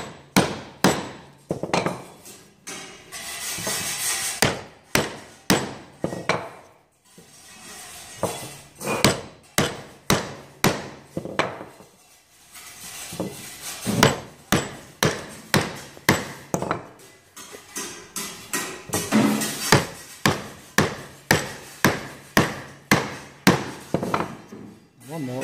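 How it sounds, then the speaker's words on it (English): A mallet striking a chisel while cutting a mortise in wood, with repeated sharp, close, loud blows in bursts and a short pause in the middle. "Now turn the chisel all the way around and come up and pick up that stuff."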